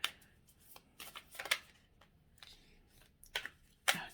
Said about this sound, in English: I can't shuffle worth a darn today, apparently.